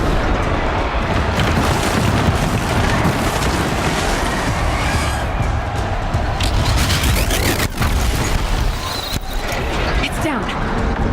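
A platform crashing down after its pillar is destroyed in Horizon Zero Dawn, a loud, dense rumbling roar of breaking debris that fills the whole stretch, with a sharp impact near the middle.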